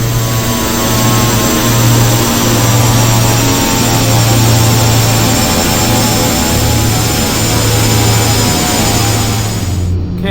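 Steady droning turbine roar of a Carenado King Air C90's engines in X-Plane 11, holding constant and loud for the whole stretch with a high whine over a low throb, no voices.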